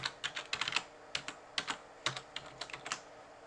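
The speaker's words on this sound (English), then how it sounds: "So I will have to type here vacschool" Quick bursts of keystrokes on a computer keyboard while logging into a domain, close, crisp clicks in uneven clusters, quiet and without talk.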